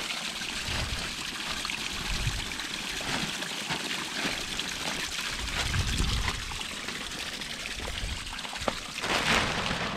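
Water pours and trickles steadily into a garden pond liner for water lilies and fish, a continuous splashing stream with gurgles, fairly close and alone.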